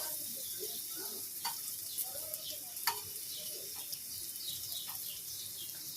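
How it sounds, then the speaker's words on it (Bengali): Pointed gourd fries in oil left from frying bitter gourd, a faint, steady sizzling hiss throughout, with soft scattered bird chirps in the background. "এই তেলেই না আমি পটলটা হালকা ফ্রাই করে নেবো।"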